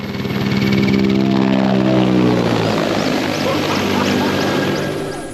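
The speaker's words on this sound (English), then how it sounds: "military aircraft fly so low" A military aircraft passes low overhead at Lake Tamir. Its loud, droning propeller roar swells and holds, and its pitch slides downward as it goes by.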